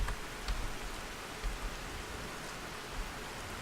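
Rain falling in a modded Skyrim game world, a quiet, even hiss of dense drops with a few soft low thumps, steady throughout and unaccompanied by talk.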